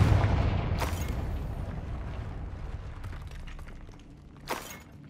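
Confringo fire spell in Hogwarts Legacy, a rumbling burst with crackling debris that fades out, then a second short sharp blast near the end, with no talk.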